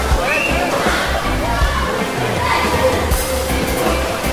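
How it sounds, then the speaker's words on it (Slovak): Apples float along water channels through a fruit factory, with sloshing and splashing water running continuously up close while a voice talks over it. "Jablká po celej fabrike iba plávajú."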